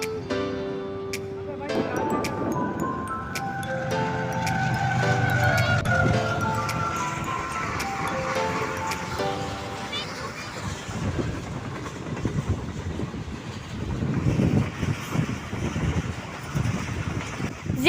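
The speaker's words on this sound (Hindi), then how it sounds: "ZCU30 लोकोमोटिव के साथ first action at Gharo railway station." A train hauled by a ZCU30 locomotive passes Gharo railway station in Sindh, a steady rumble and rhythmic wheel clatter with a horn-like tonal blare early on, while someone talks over it.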